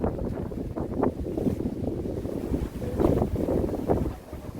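Strong wind buffets the microphone at a coastal salt farm by the sea, a continuous low rumbling roar with gusty surges, close and fairly loud throughout, no voices heard.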